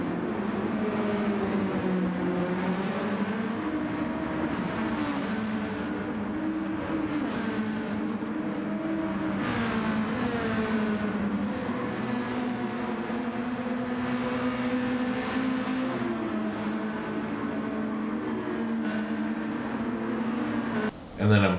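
A race car engine in Gran Turismo drones continuously during a streamers cup race, its pitch rising and falling with gear changes and a few sharp bursts, while a voice talks over it the whole time.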